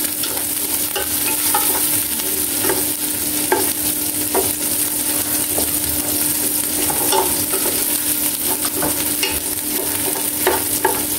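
Chicken curry sizzles steadily in a hot pan while a utensil stirs and scrapes through it, sharp clicks of metal on the pan recurring over a constant loud frying hiss, no voices.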